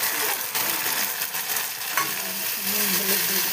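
Spice paste with tomato and turmeric frying in oil in a pan for a fish-head curry, a dense continuous sizzle with soft stirring scrapes, close and steady, no voices.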